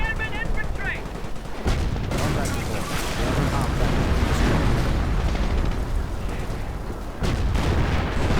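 An artillery barrage in the World War II strategy game Company of Heroes, with dense rumbling blasts and gunfire layered continuously, loud and heavy, while a commentator talks over it.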